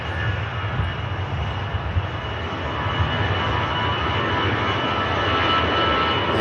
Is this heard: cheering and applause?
no